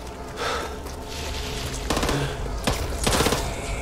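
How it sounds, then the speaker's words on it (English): Gunshots from the zombie shooter Back 4 Blood crack out in a few sharp, scattered bursts over a steady background din, growing louder toward the end. "You shot me!"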